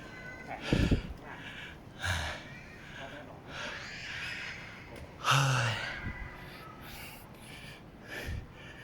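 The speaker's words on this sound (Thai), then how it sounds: "หอบแหกๆ" A heavily built hiker breathes in hard, gusty pants and sighs after climbing a mountain in Sa Kaeo, Thailand, with irregular loud exhalations spaced a few seconds apart, close to the microphone.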